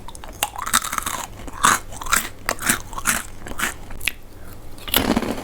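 Crunchy coated Japanese-style cashew nuts, large ones, being chewed up close, with steady rhythmic crunches and bites repeating across the whole stretch and no talk.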